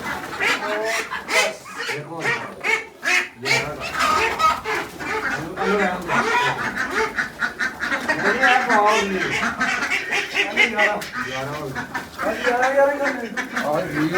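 Ducks quack repeatedly and loudly nearby, overlapping with chickens and other animal calls in a busy, chattering flock.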